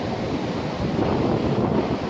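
Waves of the Arabian Sea washing onto a beach beside an ocean-view beach house in mild monsoon weather. The surf is a steady broadband roar mixed with wind rumbling on the microphone, and no one speaks.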